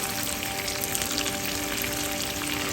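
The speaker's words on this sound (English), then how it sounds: "when these onions and everything is frying" Onions sizzle and crackle steadily in a hot pan over high heat, a dense continuous frying sound with no voices.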